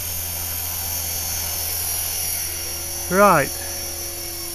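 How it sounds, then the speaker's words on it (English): An LH-450bb radio-controlled helicopter being run in, its steady high-pitched motor and rotor whine droning throughout at constant level, with a brief spoken word from a nearby voice partway through. "this is just a gentle fish tanking, getting used to the helicopter, letting it prove itself."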